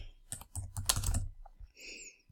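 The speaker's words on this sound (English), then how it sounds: "So maybe I want to type in Camas School District" Quick bursts of keystrokes on a computer keyboard while a location search is entered into a map tour builder, close and clear, followed by a softer, quieter tail with no talking.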